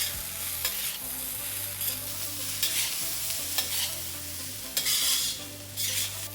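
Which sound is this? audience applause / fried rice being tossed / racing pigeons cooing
fried rice being tossed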